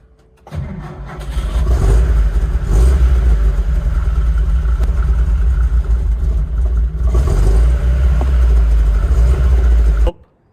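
A car engine cranks and catches after its generator was replaced with a donor unit, then settles into a loud, rough, steady idle close by before cutting off abruptly; no talking.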